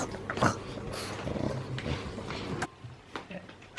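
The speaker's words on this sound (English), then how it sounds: "So we're ending the night with another puppy." A pug puppy growls and makes rough little vocal noises up close, several short gruff bursts with pauses between them and brief human talk mixed in.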